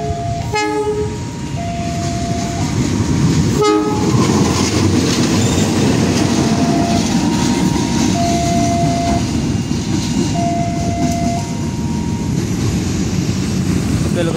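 A locomotive moving through a busy Surabaya railway station: steady loud diesel rumble and wheel noise throughout, with brief horn blasts and a short whistle-like tone, while a voice speaks faintly beneath.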